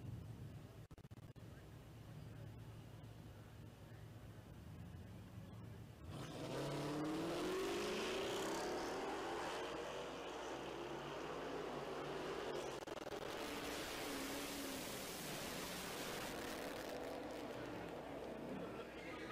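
A 2014 and a 2021 Dodge Challenger drag racing down the strip at a Hemi shootout, engines roaring in loud sustained acceleration and passing by, with an announcer talking over the racket.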